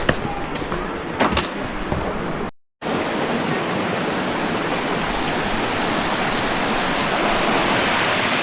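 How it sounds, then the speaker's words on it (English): Rushing water from a stream deep in a forested gorge in Romania's Turda Gorge, a broad steady roar heard from a trail above, following a few seconds of rustling footsteps and handling noise. "I can hear the water down there."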